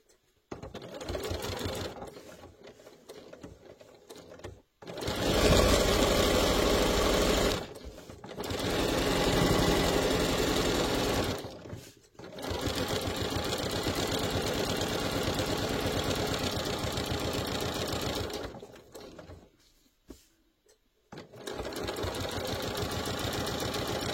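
A sewing machine stitches a fabric toiletry bag, running in steady mechanical bursts separated by short pauses and ending with a backstitch. The machine is close and clear, with no talking.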